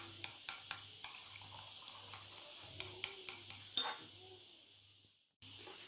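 A utensil taps and scrapes in a bowl with quick, sharp clicks, mashing cheese into turnip water, quiet and close with a low hum behind, ending in a brief silence.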